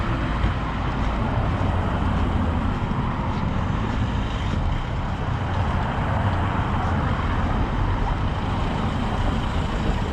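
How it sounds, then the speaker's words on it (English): Steady road traffic rumbles past a house beside a main road, a continuous, fairly loud wash of engine and tyre noise with no breaks and no voices. "just listen to traffic all day."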